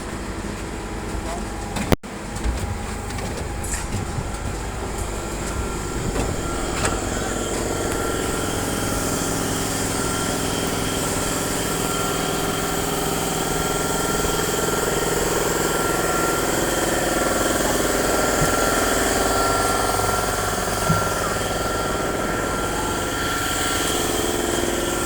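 A faulty air compressor runs steadily throughout with a droning mechanical hum and vibration, a sharp knock near the start, and a voice speaking over the noise at times.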